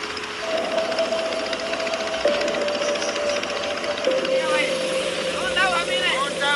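Motorboat travelling along a jungle river in Waorani tribal country, a steady droning engine hum running throughout with a sustained tonal whine, voices chattering faintly over it near the end.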